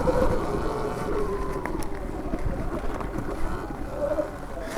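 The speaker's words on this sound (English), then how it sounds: "A little tire spin for you." A Sur Ron Ludicrous XX electric dirt bike spins its tire on a single-track trail, giving a steady, rough rumble of churned dirt and wind with a faint rising motor whine near the start and end.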